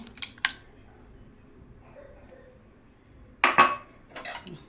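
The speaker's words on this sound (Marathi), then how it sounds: "आता दही मी बाउलमध्ये टाकते" Curd being spooned into a bowl while making dahi tadka: a couple of quick metallic clinks at first, a quiet pause, then a louder clattering scrape of spoon against bowl and a final softer knock.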